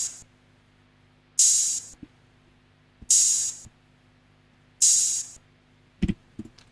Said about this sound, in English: open hat sizzle,